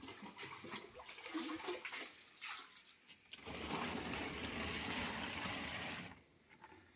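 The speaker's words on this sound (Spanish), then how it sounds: "ahorita vamos a agregar 10 litros más de agua" Water gushing steadily as 10 litres are poured into a humate fertilizer mix for avocado trees, a continuous splashing pour after brief handling sounds, cutting off near the end.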